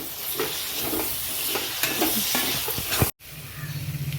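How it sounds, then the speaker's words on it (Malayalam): Mint and coriander leaves sautéed in a kadai for biryani, a loud close sizzle with repeated stirring scrapes, cut by a brief silent gap before the frying resumes. "അപ്പോൾ ആദ്യം കുറച്ച് പുതിനയില, അതേ അളവിൽ തന്നെ കുറച്ച് മല്ലിയില, ഇത് രണ്ടും കൂടി ഇട്ട് കൊടുത്തിട്ട് നന്നായി ഒന്ന് വഴറ്റിയെടുക്കാം"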